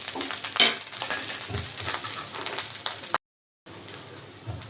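Vegetable fried rice sizzles and crackles steadily in a pan as it is stirred, with scraping spatula strokes; a brief dropout breaks the sound before the frying resumes.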